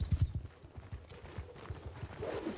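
Horse hooves pound in a fast galloping clip-clop rhythm in the Bannerlord video game, steady and fairly close, with no talk over it.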